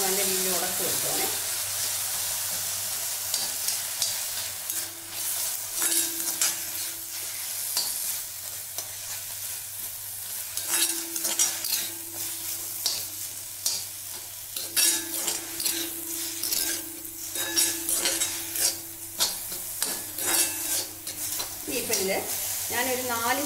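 A spoon mashes tomatoes frying in a pan for a chutney, producing steady sizzling under frequent scraping and pressing strokes. A voice is heard faintly in the background at times.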